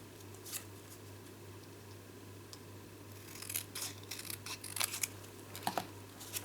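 Scissors snip through card stock during a Stampin' Up! fancy fold card project, a handful of crisp cuts clustered in the second half, close and fairly soft over a steady low hum.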